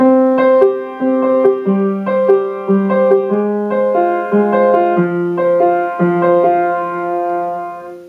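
Piano plays a short melodic passage, distinct struck notes and chords at a moderate, steady pace, clear and close.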